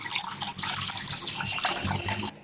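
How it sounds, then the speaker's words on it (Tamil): Steady running water pours into a pan for cooking rava kesari, a continuous hissing gush that cuts off abruptly near the end. "1 கப்புக்கு இப்போ 2 கப் தண்ணி நான் சேர்க்க போகிறேன்"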